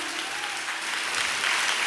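A church congregation claps hands together during a pastor's sermon, a steady dense wash of applause that holds loud and even throughout.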